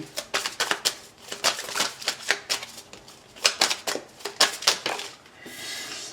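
Tarot cards are shuffled and drawn by hand, with bursts of crisp riffling and slapping clicks in an irregular rhythm, close and clear with no talking.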